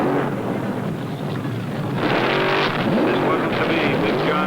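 Powerful drag race car engine, a 1971 220-mph Plymouth Cuda funny car roaring loud and continuous, rising in intensity partway through as the car launches, with a commentator's voice running over it.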